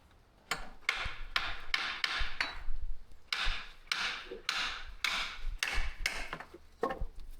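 Repeated sharp hammer blows on wood, struck in an irregular rhythm close by, with brief pauses between bursts.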